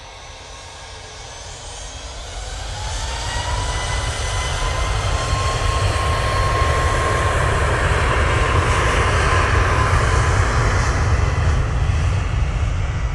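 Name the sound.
Ryanair Boeing 737 MAX 8 jet taking off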